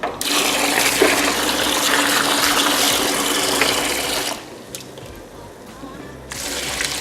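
Running water pours into a bowl of fresh beans being washed for moi moi, a loud continuous gushing fill that cuts off abruptly, pauses with faint drips and clatter, then starts again.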